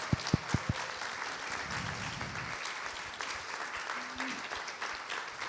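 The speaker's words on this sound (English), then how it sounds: "Let's give them a round of applause." Audience applause for exhibiting artists after a panel conversation at the Bronx Museum, a steady wash of clapping from a crowd, opening with a few sharp, close claps and continuing at an even, moderate level throughout.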